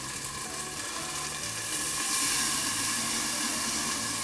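Marinated chicken breast sizzles over low heat in a pan with browned garlic and scallion, a loud steady crackling hiss that swells slightly as it cooks, with no voices.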